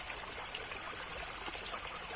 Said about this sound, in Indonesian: di sini saya juga kurang tahu kemana aliran air ini akan berakhir